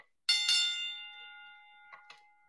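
A single bright bell strike rings out sharply and decays slowly with a long shimmering tone, followed by two faint light taps near the end.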